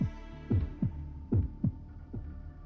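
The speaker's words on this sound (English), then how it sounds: "Just listen to that heartbeat." A slow, heavy heartbeat from the video game Fate Grand Order, with deep double thumps repeating in a steady rhythm over a low droning hum, heard alone without talk.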